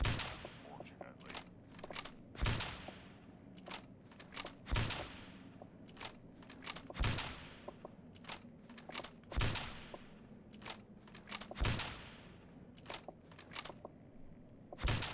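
Repeated rifle shots in Fallout 4 VR, sharp loud cracks fired singly and in short bursts at a steady pace across the whole stretch, with quieter clicks and footsteps between them.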